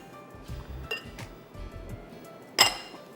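Crushed biscuits are mixed in a bowl, with a few soft clinks and taps of a utensil against the dish. The sounds come close and quiet, with one sharper ring near the end and no voices.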